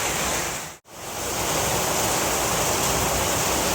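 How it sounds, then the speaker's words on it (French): Dense, steady hiss of heavy rain pouring down on Marilaque Road in the Philippines, broadband and continuous, with one very brief dropout before the downpour resumes at full strength. "Le bruit que vous entendez, c'est la pluie."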